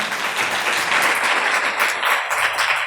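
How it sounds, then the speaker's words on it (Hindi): Audience applause at a business talk, a steady wash of many hands clapping at close range for the whole few seconds, with slight swells in intensity. "पहले तो मैं चाहूँगा कि आप लोग इनके लिए तालियां भर दें एक दफ़ा और।"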